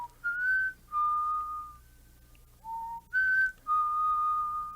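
Someone whistles a slow tune of clear, sustained notes in two phrases separated by a brief pause, close and fairly loud.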